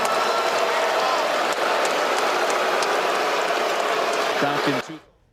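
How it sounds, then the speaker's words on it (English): A basketball arena crowd boos in a sustained, loud, dense roar that fills the space. It cuts off near the end, and a voice briefly follows. "Can we stop all the booing and let these guys play?"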